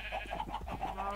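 Cattle in the Minecraft video game give a run of short, nasal, bleating-like calls, several in quick succession over a steady low hum, fairly close and moderately loud, with no talking.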